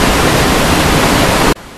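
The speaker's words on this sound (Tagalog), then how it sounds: "Tama, ito ay tunog ng talon." A waterfall pours in a loud, steady broadband rush that stops abruptly near the end, leaving a faint hiss.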